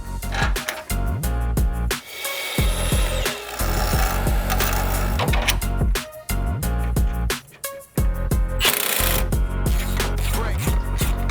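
A part for a Porsche 987 gravel-spec suspension being cut to length, a steady loud sawing rasp running almost continuously with a few short breaks, close up and with no talk.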